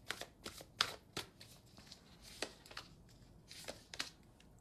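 Tarot cards being shuffled in quick, soft bursts of riffling and flicking, close and quiet, with brief pauses between bursts.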